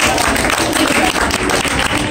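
An audience claps together in a dense, sustained patter of many hands that stays loud and even from start to finish.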